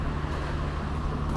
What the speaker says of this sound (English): Whenever you hear a car behind me or just car in general, it's actually along 8th Avenue.